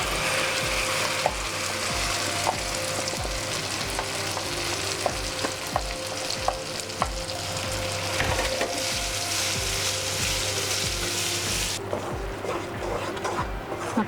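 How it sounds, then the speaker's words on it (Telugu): A curry leaf chutney paste cooks in oil with a continuous bubbling, spitting sizzle and repeated scraping stirs, close and even throughout. "ఇప్పుడు ఆయిల్లో ఉడకనిద్దాం"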